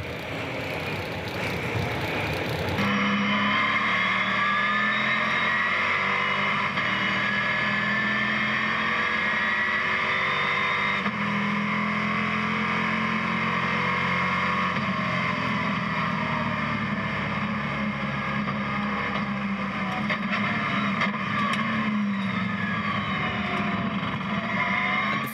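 A NASCAR Whelen Euro Series race car at the race start at Le Mans, heard onboard: a loud, sustained engine roar with shifting pitch runs steadily under a brief noisy burst at the very beginning.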